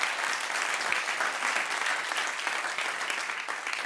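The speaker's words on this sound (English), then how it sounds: "An applause for Z." Audience clapping at a Google keynote, a dense and sustained wash of applause from the crowd that stays even throughout.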